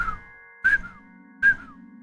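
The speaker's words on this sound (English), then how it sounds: "I'm not good at whistling." A person whistles three short, clear notes, each bending slightly downward, spaced evenly apart in a quiet room.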